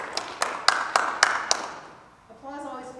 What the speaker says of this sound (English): Applause always feels weird when it's like 5 people.